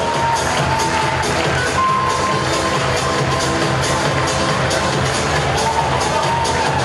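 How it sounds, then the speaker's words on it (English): An audience at a school's 100-year celebration in a banquet hall applauds and cheers loudly as a man walks to the podium; the sustained crowd roar and clapping run without a break, with scattered shouts. "Let's give him a great big round of applause as he makes his way up to the podium."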